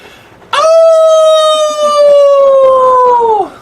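A person imitates a long, loud howl, one sustained wavering tone that holds steady for about three seconds, then drops off at the end.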